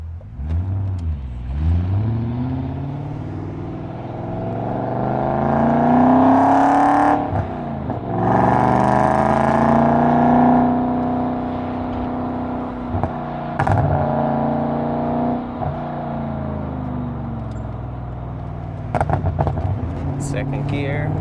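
A BMW E34 540i fitted with a Magnaflow exhaust and resonator delete accelerates hard, its engine note climbing in pitch through repeated rising sweeps and dropping between gear changes, with a voice briefly audible alongside.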